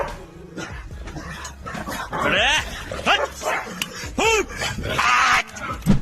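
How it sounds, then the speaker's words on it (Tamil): Several dogs bark, yelp and whimper in a restless, overlapping chorus, mid-distance and fairly loud, with rising whine-like calls throughout. "வழக்கத்துக்கு மாறா இன்னைக்கு நாய்கள் எல்லாம் ரொம்ப குறைச்சிட்டு இருக்கு."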